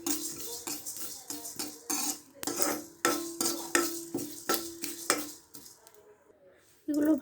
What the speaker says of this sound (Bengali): এগুলোকে এখন আমি ভালো করে ভেজে নেব।